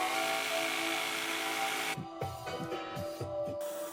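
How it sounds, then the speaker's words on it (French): A steady high-pitched power tool whine gives way to a jigsaw chattering through wood furniture panels in quick repeated strokes, close by. "Puis j'ai découpé à la scie sauteuse."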